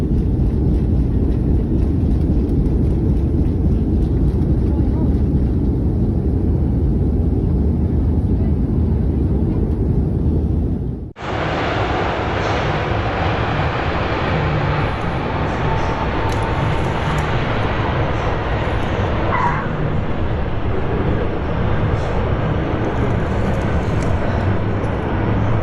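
Steady, loud roar of an airplane in flight heard from on board, dense engine and wind noise that continues unbroken, then shifts abruptly partway through to a slightly brighter, airier rush that carries on to the end.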